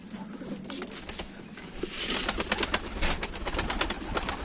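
Several birds coo and call together in a steady, overlapping chorus, with rustling and faint background noise underneath.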